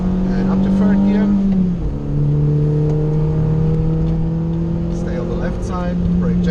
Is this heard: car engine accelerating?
yes